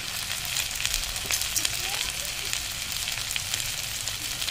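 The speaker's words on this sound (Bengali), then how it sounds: "দিয়ে এগুলোকে নাড়াচাড়া করে ভালো করে ভেজে নেব। এবার চিংড়ি মাছটা দিয়ে দেবো।" Shrimp frying in a pan with kochur loti (taro stolons), a dense, steady sizzle and crackle close by, constant throughout with faint stirring and no talk.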